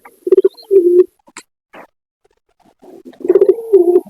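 Pigeons coo in short soft bursts close by, with a pause of faint rustles and flutters before the cooing resumes.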